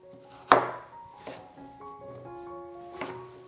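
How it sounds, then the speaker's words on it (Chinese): A knife cuts a baby pumpkin into small pieces on a board, giving three sharp, close, separate thunks spaced unevenly, with quiet pauses between them. "把中间的瓤给它挖出来，再切成小块"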